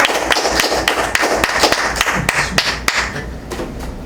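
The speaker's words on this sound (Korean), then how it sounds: "박수 한번 쳐주는 거예요" An audience at a lecture during a national prayer meeting claps in a loose, rhythmic pattern, with sharp hand strikes landing at a fairly regular pace, close and loud throughout.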